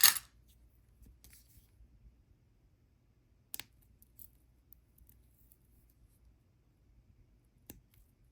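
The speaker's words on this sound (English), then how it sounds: "Now all I need to do is snip each one of these." Scissors give a few sharp, isolated snips as leather bracelet cords are trimmed, spaced apart over near silence.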